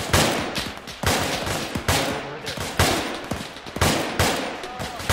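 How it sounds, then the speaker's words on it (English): Rapid volleys of gunfire in the video game Arma 3 crack and echo in bursts, about one every second, loud and close, with a muffled voice faintly underneath. "Contact gunfire east, northeast."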